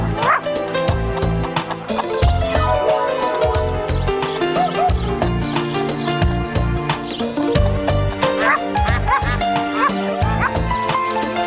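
A cartoon dog in a French children's show barks, yips and whimpers repeatedly in lively bursts, loud and close over busy background music.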